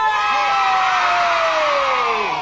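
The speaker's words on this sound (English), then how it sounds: "Give him a cheer. Hooray!" Children in an audience give a loud, sustained cheer of hooray for a puppet show character, a dense crowd shout lasting a couple of seconds.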